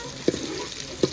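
Masala spices fry in hot oil for a home-cooked curry, a soft continuous sizzle with two brief sharp clicks or taps of utensils against the pan.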